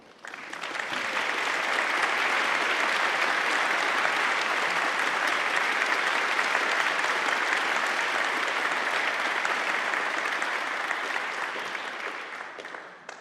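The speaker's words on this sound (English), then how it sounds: "please stand and let us give you a round of applause." A community band concert audience gives veterans a long, steady round of applause, dense clapping that swells in quickly, holds for over ten seconds, then tapers off.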